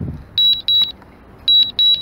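A DJI Mavic Mini drone sounds its return-home alert: four bursts of rapid high-pitched beeping, in two pairs separated by a short pause, clear over quiet outdoor background.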